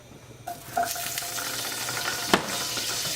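Butter and oil hit a hot pan for chicken fajitas and break into a steady, close crackling sizzle, with a brief clink of a utensil partway through.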